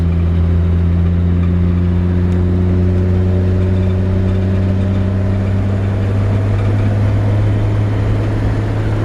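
A 1947 Chevrolet 3100 pickup truck drives along, its engine droning steadily and loudly from close by as the tone slowly shifts while it moves through the gears, with no voices.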